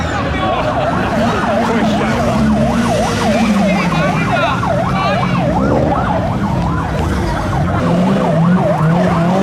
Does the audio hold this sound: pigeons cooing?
no